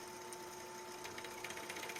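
A large drill bit bores through thin material with no pilot hole, the workpiece held in a float-lock vise. The motor gives a steady, fairly loud whine with a rough, grabbing chatter, and no voices are heard.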